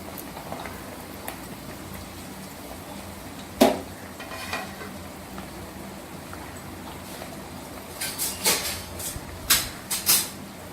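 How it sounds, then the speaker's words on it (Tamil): Herb leaves fry in hot oil for homemade hair oil with a continuous faint crackle. Scattered louder ladle clanks and scrapes come through, bunching together toward the end, and no one speaks. "இப்போ பார்த்தீங்கன்னா இந்த ஆயிலில் எல்லாமே கொஞ்சம் ஃப்ரை ஆகும்"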